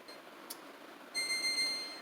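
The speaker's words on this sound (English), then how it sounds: "Alright, timer is beeping." An oven timer beeps in a quiet kitchen during bread baking, starting partway through as a short run of faint, high electronic beeps after near silence.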